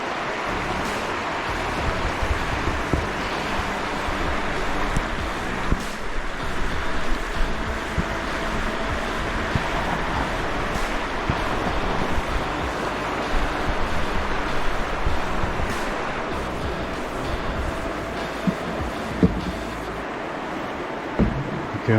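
The Little Miami River near Milford, Ohio rushes steadily nearby, a broad continuous wash with occasional wind buffeting the microphone and no talking.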